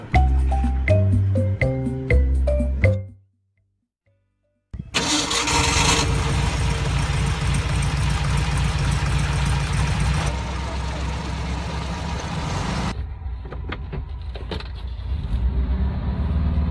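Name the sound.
engine of 1962 Karmann Ghia coupe, 1200 cc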